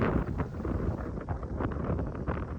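Strong wind gusting outdoors during an Australian bushfire, a steady low roar buffeting the microphone with rustling surges, close and continuous with no talking.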